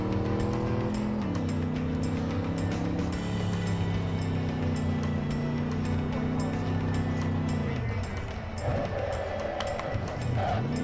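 A car drives in the video game Cyberpunk 2077, its engine a steady loud drone that rises in pitch, holds, then drops away before a brief higher whine, with no talk.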